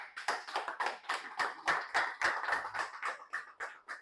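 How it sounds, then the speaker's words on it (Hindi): A small audience stands and claps to welcome a speaker at an FPRT talk, sparse individual hand claps sounding in an uneven rhythm for a few seconds, moderately close with no talk over them. "एक बार जोरदार तालियों से खड़े होकर उनका स्वागत करें"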